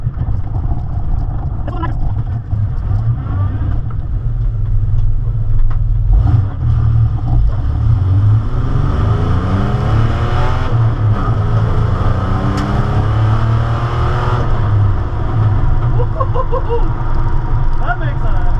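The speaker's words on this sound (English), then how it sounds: "Let's do a hit on the nitrous." Rally Camaro engine on a nitrous hit, a loud, steady rumbling roar that rises as the car accelerates, close and continuous throughout.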